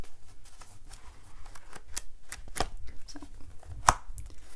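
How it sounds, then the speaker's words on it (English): Old sketchbook pages flipped by hand, a rapid run of papery riffles and soft rustling flicks, close and quiet, with one sharper snap near the end and a brief word spoken. "I can't get these to flip because it's so old. So I hope you guys enjoyed this little page flipping"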